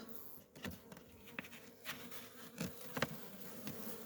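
Honeybees stirring inside a wintering two-colony hive, a faint soft buzz with scattered brief crawling and wing-flick bursts, close and quiet, with no talk.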